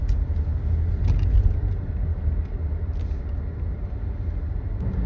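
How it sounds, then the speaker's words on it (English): Heavy road traffic rumbles steadily, with cars and the occasional bus hiss of air brakes passing close by in a continuous low drone, no voices. "traffic is suddenly really crazy"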